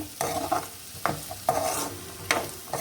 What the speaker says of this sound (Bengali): আমি এই যে এইভাবে অনবরত নাড়তে আছি